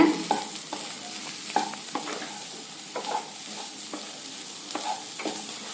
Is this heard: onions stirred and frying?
yes